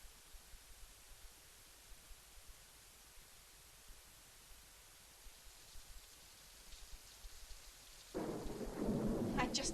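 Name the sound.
rain and thunder in a film scene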